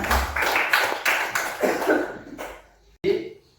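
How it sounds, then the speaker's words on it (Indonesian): A classroom of students claps for a classmate in a rhythmic pattern of short bursts, with young voices chanting along. The clapping ends after a sharp final clap. "Bagus, tepuk tangan untuk Ridwan."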